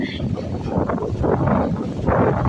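Strong wind rushes and buffets the microphone in steady gusts, with a voice speaking underneath.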